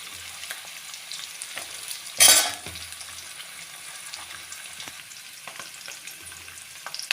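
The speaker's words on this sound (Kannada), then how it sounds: "ಕಟ್ ಮಾಡಿದ್ದ ಈರುಳ್ಳಿ ಹಾಕಬೇಕು. ಮತ್ತು ಕ್ಯಾಪ್ಸಿಕಮ್ ಹಾಕಬೇಕು" Chopped onion and capsicum fry in a pan with a steady soft sizzle, broken by occasional stirring scrapes and one brief louder hiss partway through.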